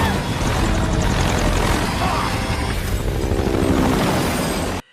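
Loud, dense rotor and engine roar of a helicopter, continuous and close, with rumbling low end throughout before cutting off abruptly.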